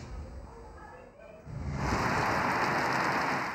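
Heavy storm rain pounds down during flooding in the Zhob, Khuzdar and Hub areas of Balochistan, a dense, steady roaring hiss that swells in after a brief faint voice at the start.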